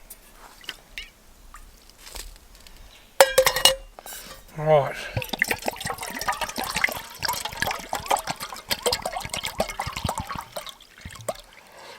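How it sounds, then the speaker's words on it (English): Water poured from a Camelbak drink bottle into a camping pot, a short splashing burst followed by clinking and rattling of the pot, with a brief word spoken and quiet handling noises. "I'll put a little bit of water in here out of my Camelback drink bottle."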